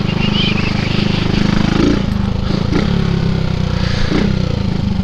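Kawasaki Z1000 motorcycle engine running steadily at close range as the bike arrives and slows to a stop, a continuous low rumble with a few clattering knocks.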